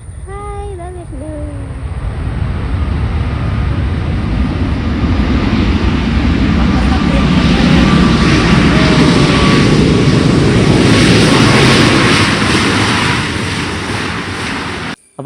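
An Etihad airliner flies over near the back side of Kochi International Airport: a broad engine roar swells steadily to a loud peak, carrying a faint sliding whine, then begins to ease off, with brief voices near the start.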